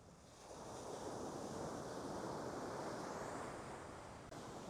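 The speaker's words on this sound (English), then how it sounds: "these waves, you can just hear the power in every single one of them" Ocean surf roars in a broad, continuous wash on a beach while surf fishing, swelling and easing slightly as waves break, with no voices.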